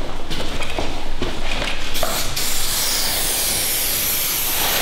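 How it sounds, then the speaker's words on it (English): Floorwise spray adhesive hissing steadily from an aerosol can as it is sprayed across a living room floor with underfloor heating, a continuous close hiss with brief bursts in the first couple of seconds. "We're going to use the Floorwise spray adhesive."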